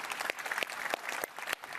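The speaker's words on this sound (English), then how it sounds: "Thank you for sharing your AI journey, and big round of applause for Lenny, please." Conference audience applause at a Cisco Live event in Amsterdam, a brief burst of many hands clapping at moderate level with a few sharp individual claps.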